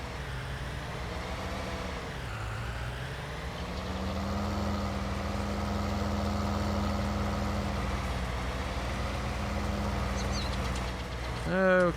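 A tractor engine idles in Farming Simulator 19, a low steady drone whose pitch dips briefly and then holds level, with someone talking over it and a short mechanical sound at the end.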